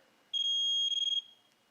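A Southwire voltage detector held to a live household switch gives a loud, steady high beep lasting just under a second, then a quick run of pulsed beeps before it cuts off.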